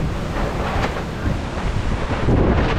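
Strong wind buffets the microphone, a heavy whooshing roar with gusts that swell louder toward the end.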